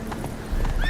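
Roach, a horse in The Witcher 3, clip-clops along in a short burst of hoofbeats that grows louder toward the end, with a faint whinny-like tone.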